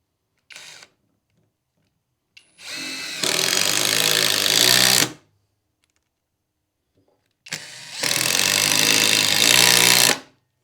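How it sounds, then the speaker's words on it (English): Skil 12-volt brushless impact driver driving a lag screw, two loud bursts of rapid hammering rattle, each about two seconds long, with short trigger blips and silence between. "This is the new Skil 12-volt brushless impact driver."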